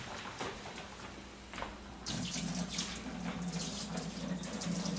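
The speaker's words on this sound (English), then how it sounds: "Alright, pasta's already done. We're gonna go ahead and drain the water." Pasta cooking water pours from a pot into a kitchen sink, a steady rushing splash that starts after a quieter moment and continues loud and close, with no talking.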